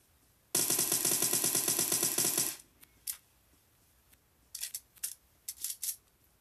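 A sustained automatic burst from a gun in PUBG Mobile rattles loudly for about two seconds and then stops, followed by scattered faint clicks and metallic clatters.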